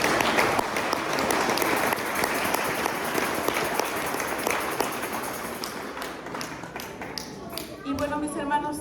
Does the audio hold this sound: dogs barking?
no